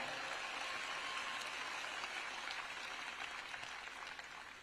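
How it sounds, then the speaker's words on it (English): A large rally crowd applauds a congressional delegation with sustained, even clapping, heard from a distance. It fades slightly toward the end. "Y'all please give them a round of applause,"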